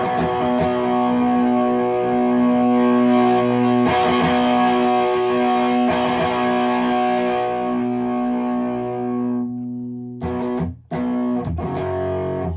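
Electric guitar played through a Mosky Audio Mad Cow distortion pedal, a Suhr Riot-style drive, rings out in loud sustained distorted chords that fade, then gives a few short choppy strums near the end, with no talking.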